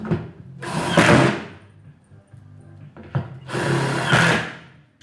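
Power screwdriver driving screws into a cabinet carcass during assembly, two loud close bursts of whirring a couple of seconds apart with quieter workshop handling noise between.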